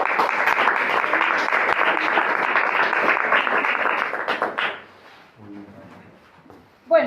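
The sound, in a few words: audience applause for Brother Bruno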